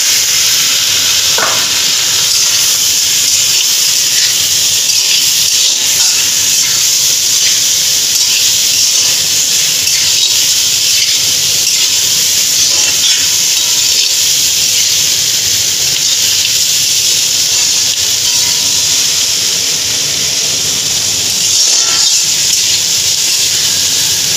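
Meat sizzles steadily in a hot pan, a continuous loud hiss and crackle of frying that holds evenly throughout, with a few faint clinks of stirring and no talk.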